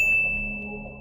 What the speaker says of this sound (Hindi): मेरा मोबाइल बज जाता है।